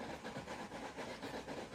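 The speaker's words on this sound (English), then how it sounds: "train departing from the station now" A train departs a station in the video game Railroad Pioneer, giving a steady, rumbling rail noise with a rhythmic chugging pulse, loud and continuous with no talking.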